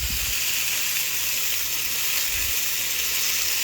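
Vegetables for soup charring in a hot pan give off a steady, loud, bright sizzle that runs throughout, with a couple of soft low thumps.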